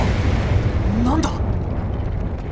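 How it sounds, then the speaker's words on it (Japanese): In the video game Tribe Nine, an explosion erupts at a satellite control building as a loud, rumbling blast with a rising whoosh, heavy low-end roar sustained briefly before fading. "衛星管理棟で原因不明の爆発が発生。"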